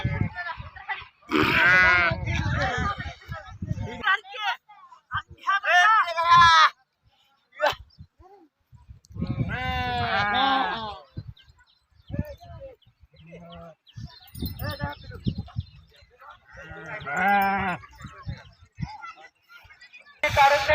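A flock of sheep kept by devotees of Balumama bleats at a village camp: loud, close calls repeat in uneven bursts with short pauses, several voices overlapping.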